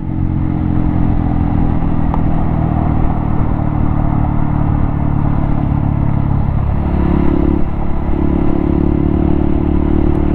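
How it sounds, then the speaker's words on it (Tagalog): A motorcycle engine runs loud and close on a solo ride in Zamboanga Sibugay, Philippines, a constant throaty rumble with slight shifts in pitch as it revs. "Grabe pumapalo talaga itong motor ko nagagalit lagi parang gustong sumirit talaga"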